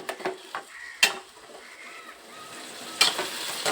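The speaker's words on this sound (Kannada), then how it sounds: "ಎಲ್ಲ ಚೆನ್ನಾಗಿ ಫ್ರೈ ಮಾಡ್ಕೋಬೇಕು" Food frying and sizzling in a pan, with the clink of a utensil stirring against the metal several times over a steady hiss.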